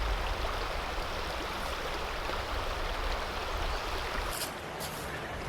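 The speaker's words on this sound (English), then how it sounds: "this is what it sounds like with water behind me and the Rode mic" Flowing water rushes steadily and loudly behind the recordist, captured with a Rode VideoMic GO mounted on a Canon M50, a dense unbroken outdoor roar with no voices.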